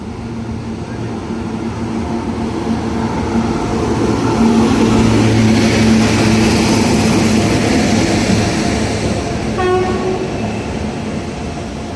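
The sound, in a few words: Bandra Terminus–Jamnagar Humsafar Superfast Express train passing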